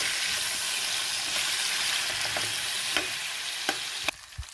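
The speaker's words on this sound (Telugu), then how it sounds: "ఈ చికెన్ ఇందులో వేసేద్దాం. ఇది బాగా ఫ్రై చేసుకుందాం." Boiled chicken fries in a pan with a constant loud sizzle, broken by a few sharp scrapes and knocks of a stirring utensil toward the end.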